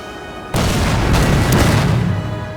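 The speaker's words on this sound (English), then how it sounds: "Cannons reload a bit faster in this game than they do in Empire" Cannon fire in the video game Napoleon: Total War: after a steady background rumble, a sudden loud boom bursts in and rolls on as a sustained thunderous blast that slowly fades.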